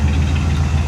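A 1979 Cadillac DeVille V8 idles steadily and loudly up close after a carburetor swap, a continuous low rumble with no talk over it.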